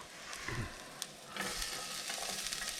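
Garlic dropped into a hot stir-fry pan for quick fried rice, with a soft, steady sizzle, a few clinks and stirring bumps, fairly faint and alone.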